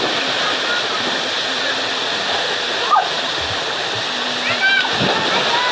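Gaway Gaway Falls waterfall in Burias, Masbate, a steady broadband rush of falling water filling the whole clip, with brief splashes and faint voices of bathers in the background.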